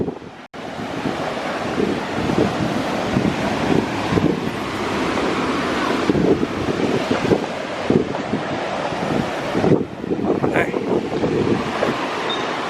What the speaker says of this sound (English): The wind blowing.